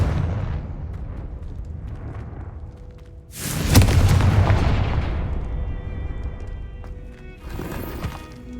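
Confringo fire spell exploding in Hogwarts Legacy, a loud whooshing blast that erupts midway through and decays over a couple of seconds, then a further burst near the end, over continuous game ambience with no talk.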